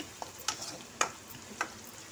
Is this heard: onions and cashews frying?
yes